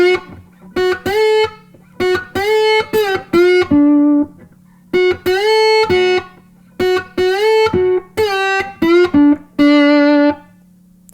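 Electric slide guitar playing a blues intro, with clear sustained notes gliding up and down in short repeated phrases, slow and loud, with no voices.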